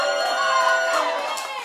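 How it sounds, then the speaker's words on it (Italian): Crowd at a live Italian neomelodic concert cheering and shouting over sustained music, a loud, dense wash of voices lasting under two seconds with no distinct claps. "Ancora un applauso forte, buonasera."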